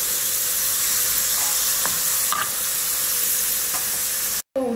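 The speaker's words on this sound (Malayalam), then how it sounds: "ഒരു സവാള അരിഞ്ഞത് ചേർത്ത് കൊടുത്ത് നന്നായിട്ട് ബ്രൗണിഷ് ആവുന്ന കണക്ക് നമുക്ക് വഴറ്റിയെടുക്കാം" Chopped onion sautés in hot oil in a pan, a steady bright sizzle and hiss with a few soft scrapes of stirring, close and continuous before a brief cut near the end.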